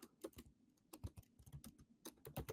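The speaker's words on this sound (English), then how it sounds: "as per the email, I'm just gonna type in Michael" Typing on a computer keyboard while entering sample names into a webinar sign-up form: quick irregular bursts of key clicks, close and fairly quiet, with no talking.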